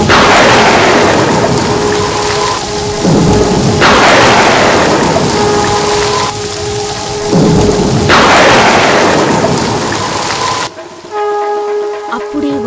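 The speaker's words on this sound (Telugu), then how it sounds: "బయట బాగా పెద్ద వర్షం పడుతుంది" Heavy rain pours steadily throughout while loud thunder cracks and rumbles roll in three separate times, each fading before the next; the storm is close and dominant, with no voices.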